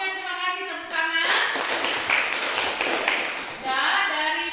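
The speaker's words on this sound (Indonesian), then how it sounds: "tepuk tangan." A classroom of students applauds after a group presentation, a dense burst of clapping for a few seconds, with a bit of speech at the start and end.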